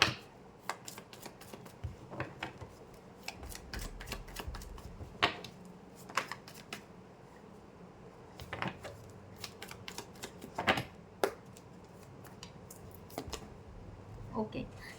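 Tarot cards being shuffled and handled, giving soft, close, irregular riffles, slaps and taps scattered through a quiet room, with some faint talking in places.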